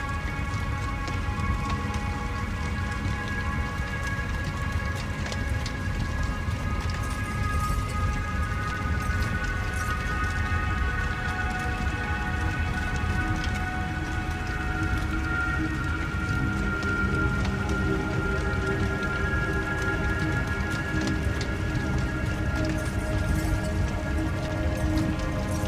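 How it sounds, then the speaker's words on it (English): Steady rain falls densely and without a break, loud and close, with low rumbles of thunder blended into the wash and no voices. "The cracks of thunder and flashes of lightning"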